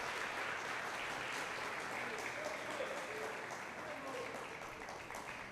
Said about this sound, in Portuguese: Se vai aplaudir, aplaude com força.